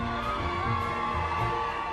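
A crowd of well-wishers cheers and whoops at Camilla's arrival at Windsor's Guildhall for her civil wedding, a steady, broad roar heard from some distance.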